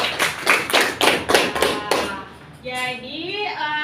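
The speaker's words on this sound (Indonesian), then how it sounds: "tepuk tangan untuk kalian semua" Students in a classroom clap in unison, about seven sharp, evenly spaced claps, before a voice starts speaking right after.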